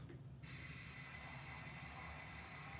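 Model train with built-in sound running on a layout: a faint, steady mechanical hum and hiss with a soft rhythmic ticking, quiet and continuous throughout.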